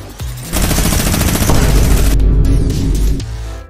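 Rapid automatic gunfire from a video game firefight, a loud continuous burst of shots lasting a few seconds before cutting off, with no voices over it.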